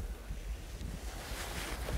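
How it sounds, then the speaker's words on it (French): Wind blows across an open-water fishing spot, a continuous low buffeting rumble with gusty wind noise against the microphone, fairly faint and with no voices. "le vent commence à nous embêter"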